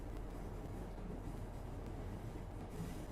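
A train in a railway simulator game on the East Coast Main Line southbound to Kings Cross, a steady low rumbling roll with no distinct clicks, fairly quiet and continuous throughout.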